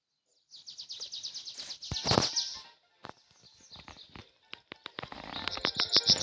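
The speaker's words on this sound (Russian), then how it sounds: "Птицы орут." Birds call loudly near a beach house by the sea, with rapid bursts of shrill, repeated chirps separated by brief pauses. The calls are close and heard alone.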